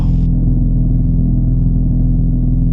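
Small airplane engine held at full throttle, 2800 rpm, with the brakes set before takeoff: a loud, steady, unbroken drone with strong low harmonics filling the whole stretch, close by and alone.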